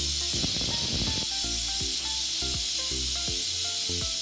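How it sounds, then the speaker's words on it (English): An Instant Pot vents steam during a quick release, a loud continuous hiss that holds steady throughout, with soft rhythmic musical tones sounding underneath. "As you can see, all of the steam is coming out. We're doing a quick release right now."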